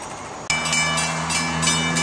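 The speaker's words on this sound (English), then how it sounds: "Here comes the 901 train." An NJ Transit train arrives at Bradley Beach station, its loud low rumble and engine drone starting abruptly and holding steady, with bright metallic ringing up high, close and alone with no talk.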